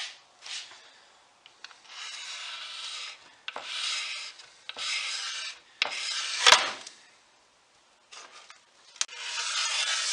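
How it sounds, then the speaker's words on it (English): Razor blade scraping the surface of a quarter-sawn oak plant stand, a series of close, rasping strokes of a second or so each, separated by short pauses, one sharp scrape louder than the rest. "I've grown quite fond of razor blades as scrapers."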